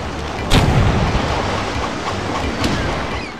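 Two heavy booms of ship cannon fire, one early and one later, ring out in the pirate video game Pirate Doom over a constant roar of sea and battle noise.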